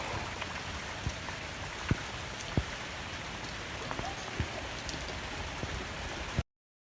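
Heavy rain falls steadily during a windy downpour in a flood-hit village in Kerala, a dense, even hiss with scattered louder drips and knocks close by, and no voices.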